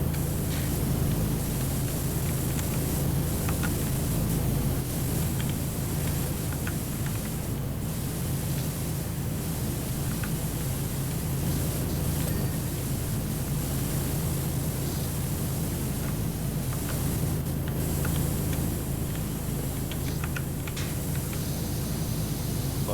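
A pressure washer in PowerWash Simulator sprays steadily onto roof trim, a continuous loud hiss of water with a low motor hum underneath and no talking.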